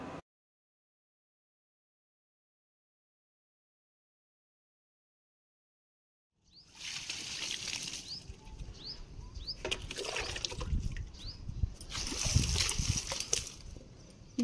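Water is poured onto plants, and a steady splashing trickle starts about halfway through after a long silence, then swells into heavier gushes near the end, moderately loud with no voices.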